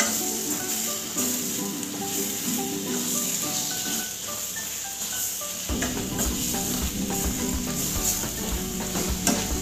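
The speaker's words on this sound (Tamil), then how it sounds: "நல்லா வதங்கட்டும்" Potato gravy with garam masala fries and sizzles in a pan, a steady hiss and crackle with faint stirring scrapes throughout, moderately quiet and without voices.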